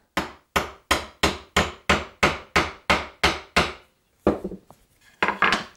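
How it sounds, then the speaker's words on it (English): A wide wood chisel driven by a mallet to chop down a hand-cut dovetail, about ten sharp, evenly spaced knocks in a steady rhythm, followed by a few softer scraping and tapping sounds. "I can come back with my wider chisel, chop my way down"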